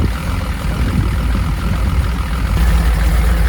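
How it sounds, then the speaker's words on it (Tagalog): A Datsun 240Z engine idles close by with a deep, loud, lumpy rumble that holds steady throughout, no voices. "Grabe umidle yung makina na to."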